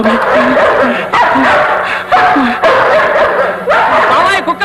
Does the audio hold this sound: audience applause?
no